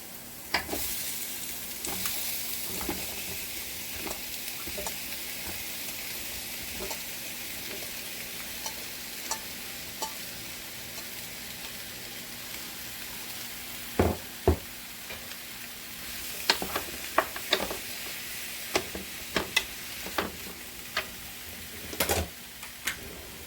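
Zucchini frying with onions in a pan, a continuous gentle sizzle broken by scattered clicks and scrapes of a utensil, busier toward the end.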